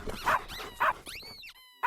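A dog barks a few short, sharp times, then whimpers and yips in a high, thin whine, close and clear in a pet store ad.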